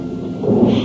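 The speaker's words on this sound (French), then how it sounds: "L'orage qui foudroie la nuit projette violemment ses paquets d'eau sur les vitraux des fenêtres de la grande demeure." A thunderstorm at night with rain lashing stained-glass windows of a large house: a short, loud burst of rumbling thunder over steady dense rain, with no voices.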